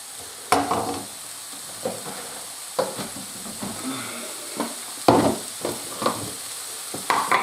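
Onions fry in a hot pan with chopped tomato flesh going in for a spicy tomato sauce, giving a low steady sizzle broken by several sharp stirring scrapes and clatters at uneven intervals, close by and moderately loud.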